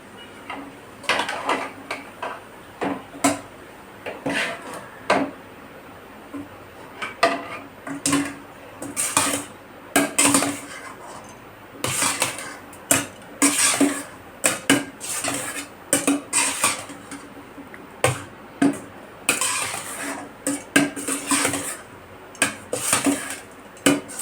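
Metal ladle scraping and clanking against a pan while chicken fried rice is stirred, a steady run of sharp clinks and scrapes close up with no talking.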